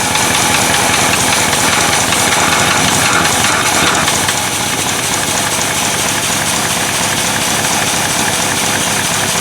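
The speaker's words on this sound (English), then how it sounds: "That engine does not have rod knock." A car engine idles without rod knock, a loud, close, steady mechanical rumble with fine rapid ticking that holds evenly throughout with no talk.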